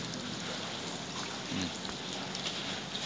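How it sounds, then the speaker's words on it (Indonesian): Steady rain hisses down over a flooded housing area in Padang, a dense, even wash of noise that continues without a break for the full length. "Hujan belum juga reda."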